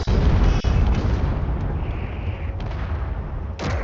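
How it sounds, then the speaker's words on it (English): Missiles launch and explode in a warship space battle video game, heavy rumbling booms and blasts in a loud, dense barrage with a few sharp cracks. "Factorum missiles."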